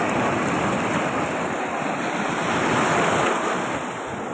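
Ocean surf at Puri beach roars as a steady, loud, broadband wash of breaking waves, close and continuous with wind across the microphone and no talking.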